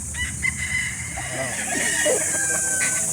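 At a live chicken market in Calauan, Laguna, gamefowl and roosters cluck and crow close by amid steady background noise, with people talking nearby.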